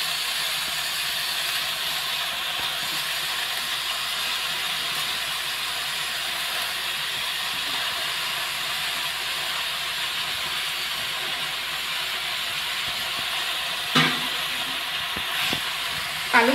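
Washed, chopped spinach goes into a pan of vegetables already frying, giving a steady, even hiss of sizzling throughout, with a couple of brief clunks near the end.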